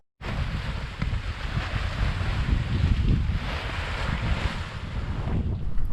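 Wind buffets a sailboat at sea off St Eustatius, St Kitts and Nevis, a constant gusty roar over the microphone mixed with the wash of waves against the hull, loud and unbroken.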